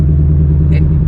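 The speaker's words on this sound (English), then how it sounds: "I love the sound of a Mustang." A Ford Mustang Shelby GT500 engine gives a deep, steady, loud rumble up close for about a second, with a brief higher sound near the end.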